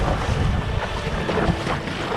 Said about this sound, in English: As we get a bit more wind here.